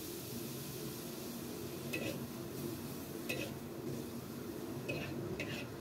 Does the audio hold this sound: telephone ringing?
no